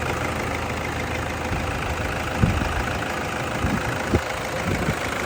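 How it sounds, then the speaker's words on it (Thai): A used dump truck's diesel engine idles steadily and smoothly, a close, continuous low rumble with a faint rhythmic knock running beneath it and no voices over it. "เสียงเครื่องนิ่มๆครับ"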